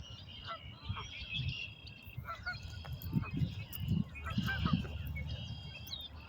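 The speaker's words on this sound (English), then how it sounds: "There's a couple more ducks." A small gathering of ducks or geese outdoors in Wisconsin, with repeated honking and squawking calls overlapping in irregular bursts, moderately close, over a low background rumble.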